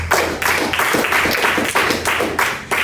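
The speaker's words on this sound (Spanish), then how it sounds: "Denle palmas a Dios." A church congregation claps along in a steady, dense rhythm, loud and close, with roughly three claps per second and no clear talk over it.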